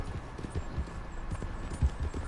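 Horse hooves clip-clop in the Red Dead Redemption 2 video game, a faint, steady rhythmic patter of hoofbeats over a low background hum.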